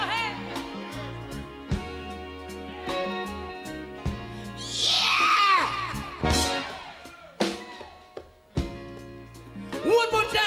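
A concert crowd at a 1988 performance screams and cheers in swelling bursts between blaring band music, the shrieks peaking loudly midway before dropping back under the music.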